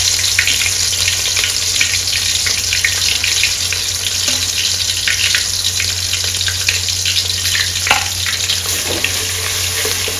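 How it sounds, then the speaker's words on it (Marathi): Ground masala fries in hot oil for mutton rassa, a loud continuous sizzle and crackle close up, steady throughout with light stirring and no talking. "तेल गरम झालंय आता आपण त्यामध्ये वाटलेला मसाला टाकून"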